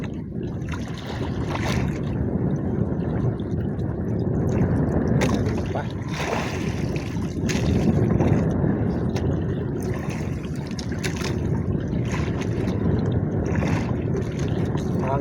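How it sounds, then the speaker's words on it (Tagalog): Constant roaring wind buffets the microphone while heavy waves slosh and churn around a small fishing boat out at sea, loud and unbroken throughout. "Hangin kasi saka malalaking alon,"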